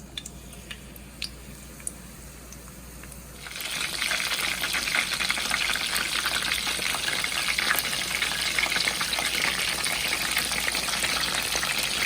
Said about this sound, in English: you need to fry like 7 to 8 minutes